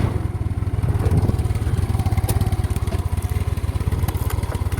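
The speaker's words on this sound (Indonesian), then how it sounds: "Kita cek suara mesin." A small 2012 Mio scooter engine idles steadily up close, its rapid, even putter continuing throughout with a faint mechanical clatter and no talking.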